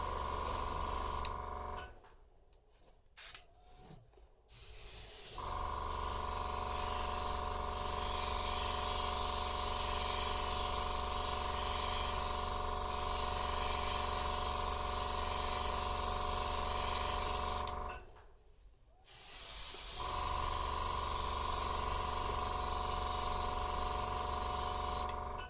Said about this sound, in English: To make the scales blue, I mixed some black with pearlized blue and give the scales a very thin coat.